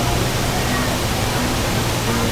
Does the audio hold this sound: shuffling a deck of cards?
no